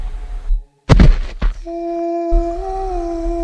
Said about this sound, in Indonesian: Bunyi benda jatuh kali ini seolah-olah betul-betul di hadapan kemah kami